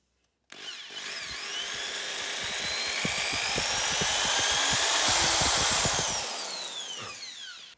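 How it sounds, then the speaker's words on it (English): A power drill boring a hole through a metal rake head whines continuously for several seconds, its pitch swelling and then easing off, with no voices. "we need to drill the new hole right here"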